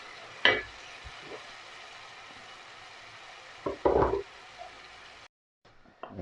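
Chopped tomatoes hit hot oil with ginger and garlic in a pan for egg curry, sending out two short bursts of sizzling and stirring against a faint steady hiss, close by with no talking.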